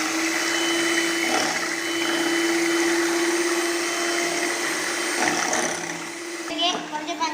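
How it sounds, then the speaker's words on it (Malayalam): An electric beater whirs steadily with a constant motor hum while beating eight eggs for cake batter, continuous and close, with brief knocks near the end. "ആദ്യം നമുക്ക് 8 എഗ്ഗ് ഒന്ന് ബീറ്റ് ചെയ്തെടുക്കാം"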